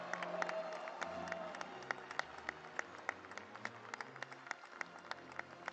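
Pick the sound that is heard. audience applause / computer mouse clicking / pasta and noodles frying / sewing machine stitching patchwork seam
audience applause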